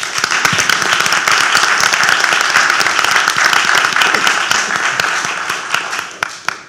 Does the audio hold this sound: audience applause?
yes